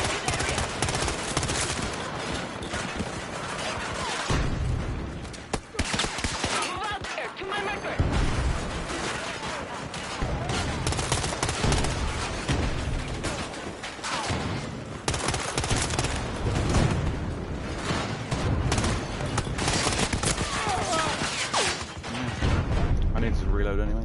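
Dense, continuous gunfire fills a Battlefield 2042 firefight, with rapid automatic bursts and crashes layered without pause, loud and close, while voices talk over the shooting.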